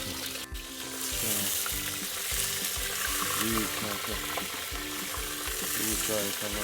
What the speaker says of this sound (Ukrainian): І воно там собі обжарюється.